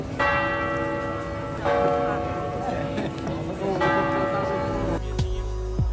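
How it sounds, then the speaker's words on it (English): A church bell tolls repeatedly in a Game of Thrones King's Landing surrender scene, three sustained ringing strikes a second or so apart, with voices and hoofbeats underneath and a low rumble at the end. "When that bell is ringing, not good news for the people of King's Landing."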